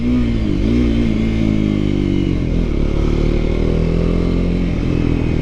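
A Triumph Scrambler 400 X motorcycle engine drones steadily while being ridden, loud and close with a rising and falling pitch as the throttle changes, wind noise underneath and no talk.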